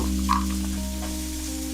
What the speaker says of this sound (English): We're gonna let those onions cook, get a little translucent, but not brown